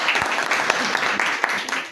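An audience at a Liberian trade and investment event claps, a short burst of dense applause under a man's ongoing speech.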